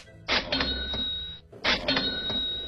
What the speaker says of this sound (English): Each time you hear a cash register